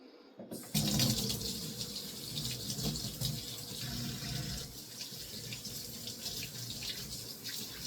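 Dill, celery and parsley rinsed under a running kitchen tap, a steady loud gush of water splashing into the sink that starts abruptly and continues throughout.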